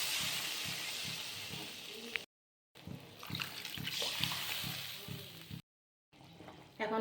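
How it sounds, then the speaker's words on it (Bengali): Water poured into a pan of fried cumin, turmeric and chili powder for a thin fish curry, a close splashing, trickling rush with a soft sizzle underneath, broken by two short silent gaps. "এখন আমি দিয়ে দিব জল।"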